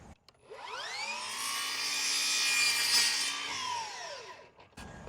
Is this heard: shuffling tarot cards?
no